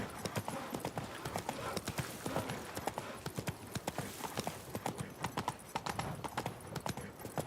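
Hooves of Roach, a horse in The Witcher 3, clip-clop in a steady rapid rhythm, close and clear, with faint voices and ambient noise underneath.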